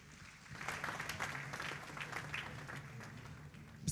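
Audience applause at an awards ceremony, a steady wash of clapping from a large crowd, fairly faint and distant, with a low hum underneath throughout.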